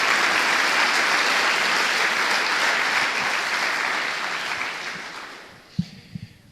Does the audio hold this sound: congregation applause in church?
yes